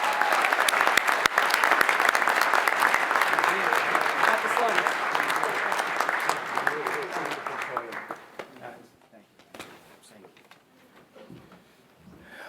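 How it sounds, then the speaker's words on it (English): A luncheon crowd at a city's State of the City address gives a round of applause, dense clapping with some voices that fades out after about eight seconds into scattered claps and room noise. "Give them a round of applause."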